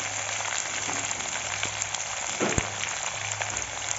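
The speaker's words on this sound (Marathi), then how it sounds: "वांगे छान तेलामध्ये परतून घ्यायचे। मस्त परतून घ्यायचे वांगे तेलामध्ये।" Brinjal frying in oil in a home kitchen pan for a dal-brinjal dish, a steady close hiss of sizzling with faint crackles throughout, plus a low steady hum underneath.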